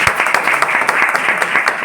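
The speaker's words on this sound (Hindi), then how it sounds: "जोरदार तालियां बजाओ" An audience at a Hindi group meeting bursts into brief, energetic applause, dense rapid clapping from many hands close by.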